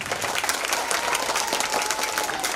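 Children give an enthusiastic round of applause at a school event, dense continuous clapping from a crowd that holds steady throughout at moderate volume.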